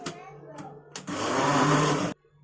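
An electric food chopper whirs loudly for about a second, mincing lemon juice and vinegar together, after a few brief clatters.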